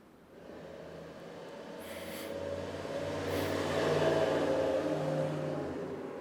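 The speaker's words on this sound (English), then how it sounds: "the FedEx truck comes in at 73 decibels" A FedEx delivery truck rolls past through a residential neighborhood, a steady low engine rumble rising gradually to a peak near the middle and easing slightly, moderately near with ambient street noise.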